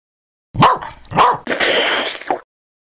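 A dog barks twice, then gives a longer, rougher bark-growl, loud and close, with short gaps between.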